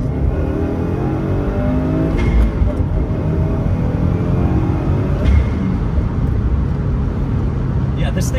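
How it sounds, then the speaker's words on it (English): A 2007 or 2016 Subaru WRX accelerates hard from first gear up a highway on-ramp, its turbocharged engine rumbling loudly and steadily throughout, with a couple of brief shift breaks and a person talking over the engine noise. "I'm gonna do the same acceleration test on the same on-ramp, starting from first gear"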